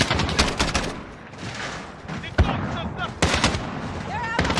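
Gunfire in a Call of Duty Modern Warfare match: scattered shots and short bursts crack out among game effects, with a few loud spikes standing out near and a voice talking at times.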